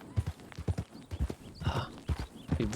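Horse hooves clip-clopping in the Red Dead Redemption video game, an uneven run of close, fairly loud thuds at a walking pace, with a brief soft snort or whinny partway through.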